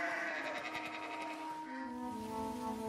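Sheep or goats bleat in a few wavering, fairly faint calls, one running into the next with no talking.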